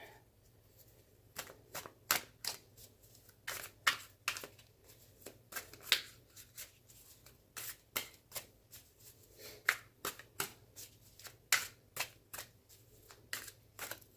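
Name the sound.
tarot cards being shuffled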